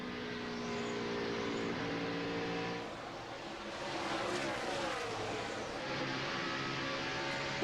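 NASCAR stock car engine roaring at speed around Dover Downs International Speedway during a 2001 race, a loud continuous high-revving drone with harmonic whine, dipping briefly then rising again as the car gets back up to speed.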